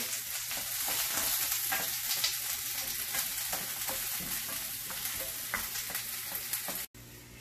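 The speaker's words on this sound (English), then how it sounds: "We stirred and cooked the onions till they change color and they get that nice brown color" Onions stirred and frying in oil, a steady close sizzle with soft scraping stirs throughout, cutting off abruptly near the end.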